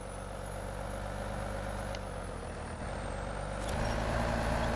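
Chevy Silverado-inspired OBS 3500 crew-cab truck backing up in SnowRunner: a steady low engine drone holds throughout, with a brief high hiss near the middle and a slight rise in rumble toward the end.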